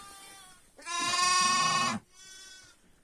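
A sheep bleats loudly nearby in one long wavering call, followed by a softer, shorter bleat.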